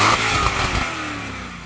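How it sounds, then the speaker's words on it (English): The V8 engine of an Alpina B10 roars through a quick rev that peaks in the first second and then drops away, loud and close with a gritty, rumbling tone. "I'm going to rev up this Alpina."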